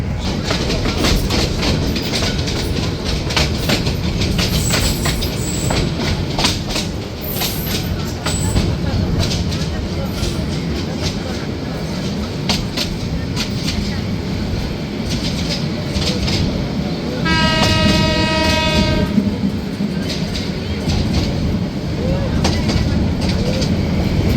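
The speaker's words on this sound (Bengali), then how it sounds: "নির্ধারিত সময় থেকে দশ মিনিট বিলম্বে ট্রেনটি যাত্রা শুরু করলো" The Sagarika commuter train sets off from Chandpur station in Bangladesh. A continuous onboard rumble carries rhythmic wheel clacks over the rail joints, and a loud horn blast sounds partway through.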